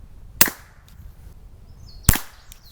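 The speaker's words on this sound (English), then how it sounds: "Cleaned titanium suppressor on the rifle with subsonic." Two sharp, quiet reports from a rifle fitted with a cleaned titanium K-Baffle suppressor and firing subsonic ammunition, about 1.7 seconds apart, each a short crack with a brief tail in an otherwise quiet outdoor setting.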